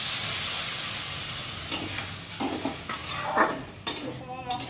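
Water poured into frying fish head masala in a pan sets off a steady hiss and sizzle with scattered pops and crackles, close and continuous, with no talking.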